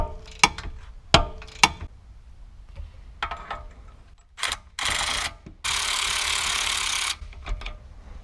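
Ratchet loosening the brake caliper bolts on a 2016 Audi A3: a few sharp separate clicks, then two longer bursts of rapid close ratcheting, clear and alone.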